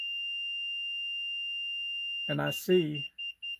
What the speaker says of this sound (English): let the beeping get done.